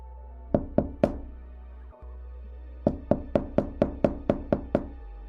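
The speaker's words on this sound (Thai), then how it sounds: "มีเสียงเคาะเบาๆ" Someone knocks on the wooden door of a monk's cell at a monastery, three raps, a pause, then a quick run of eight even knocks, close and distinct over a low hum.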